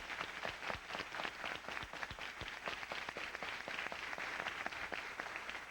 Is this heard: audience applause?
yes